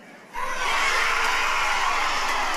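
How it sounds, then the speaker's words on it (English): A crowd at a high school softball championship game bursts into loud cheering and shouting after a double play, rising sharply from near silence and holding at a sustained roar with children's shrieks mixed in. "You can hear how excited the crowd is about that call"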